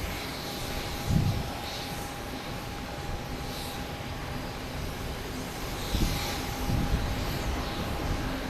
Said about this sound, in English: We got a Delta ferry flight pushing back at Terminal A.